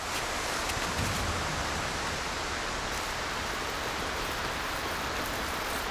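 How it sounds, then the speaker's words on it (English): Steady rain in the video game Cairn, a dense, even hiss that holds without pause for the whole stretch, fairly loud and with no talk over it. "But again, it's raining yet again."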